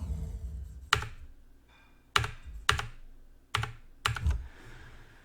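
Computer keyboard keys are pressed in a few separate, sharp clacks spaced about a second apart, close and clear with nothing else around them.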